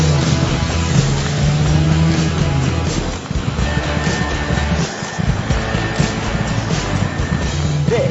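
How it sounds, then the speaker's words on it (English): Ford Capri with a 3-litre Essex engine roars steadily and loudly for several seconds, a dense rumbling drone with shifting pitch as it runs up close. "This is a Ford Capri."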